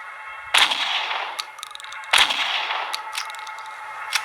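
Two loud, sharp gunshots from the horror game Motherbirb Horror Story 2 ring out about a second and a half apart, each ringing briefly before fading, with no talking.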